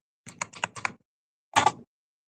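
Someone types a password on a computer keyboard: a quick run of five or six crisp keystrokes, a short pause, then one louder cluster of presses, close and clear in an otherwise quiet room.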